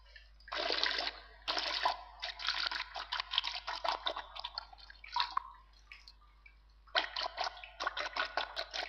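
Water splashing and pouring in the video game Toilet Simulator, with several bursts of trickling and splattering liquid broken by short pauses, fairly close and alone.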